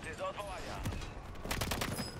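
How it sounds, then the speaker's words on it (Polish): Burst of gunfire in a first-person shooter match, a few rapid sharp shots clustered near the end, preceded by a brief muffled voice. "Strzelił do mnie."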